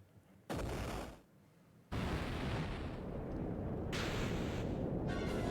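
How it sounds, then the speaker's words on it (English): Cannons firing in the video game Final Fantasy IV Pixel Remaster, heard as loud sustained explosive blasts that kick in abruptly, ease off, then return in a heavier continuous barrage. "Oh no, nothing can stop the cannons."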